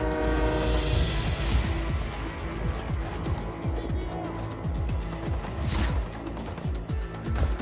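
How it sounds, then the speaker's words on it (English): A moving train in the video game Just Cause 4 during a train robbery, rumbling and clattering steadily with rhythmic wheel clicks and occasional hissing bursts, loud and continuous. "Train's moving again!"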